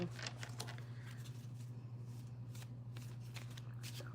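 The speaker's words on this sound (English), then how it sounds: "I'm just shuffling these cards" A deck of cards is riffled and shuffled several times in quick bursts, close and crisp, over a low steady hum.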